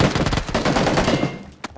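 In the PUBG video game, a close, loud burst of rapid automatic fire rattles for over a second and then stops. A lone shot follows a moment later, with no voices.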